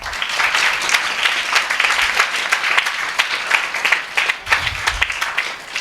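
Loud, sustained applause from a church congregation during a Sunday service, dense clapping filling the whole stretch without pause and no voices over it.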